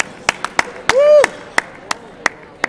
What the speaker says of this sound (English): have been sitting here clapping for every single person that has gone through the line